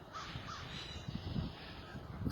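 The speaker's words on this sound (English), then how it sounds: "I can hear the crows." Crows caw repeatedly outside a cabin in spring woods, a few harsh calls spaced out against a faint outdoor background, with no talking.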